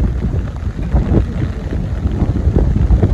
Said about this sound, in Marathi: एवढा वारा